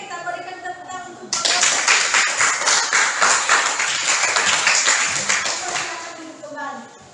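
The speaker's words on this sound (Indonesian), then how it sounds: "Oke, kita berikan tepuk tangan untuk" A classroom of students applauding a student group after a discussion presentation, several seconds of dense close clapping that starts abruptly and fades out, with a voice talking before and after.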